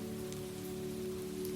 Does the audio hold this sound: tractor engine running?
no